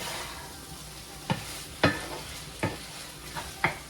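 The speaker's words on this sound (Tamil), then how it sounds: "இறால் சட்டுன்னு குக் ஆகிடும் அதனால் ஒரு டென் மினிட்ஸ் இதை போட்டு நல்லா வேக வச்சுக்கலாம்" Prawns cook in a pan under a soft, steady sizzle, with a few sharp spatula scrapes and knocks spaced about a second apart, close by and without talking.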